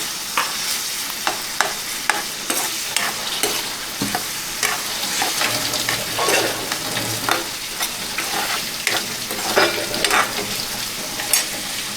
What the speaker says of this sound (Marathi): कांदा लाल होईपर्यंत एक टोमॅटो टाकतोय